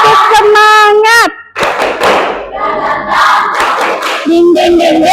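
A classroom audience claps a rhythmic group spirit clap, tepuk semangat, with loud thumping claps and shouted voices in a chanted pattern, close and lively.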